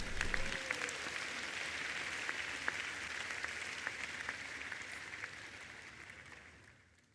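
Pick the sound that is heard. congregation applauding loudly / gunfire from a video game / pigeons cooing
congregation applauding loudly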